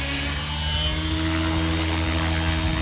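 An RC helicopter lands, its rotor and motor giving a steady loud drone with strong tonal whine bands, continuous and close, no voices.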